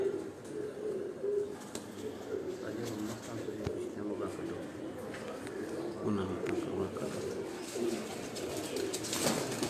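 Kot Commander breed pigeons coo steadily on a rooftop in Sialkot, a continuous soft layered cooing from several birds with light background noise and faint talk.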